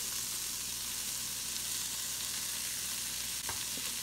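Peas, onions, ginger and garlic frying in a pan for keto bacon and egg fried rice, with a steady, even sizzle that stays up close and loud. A faint stir or scrape is heard near the end.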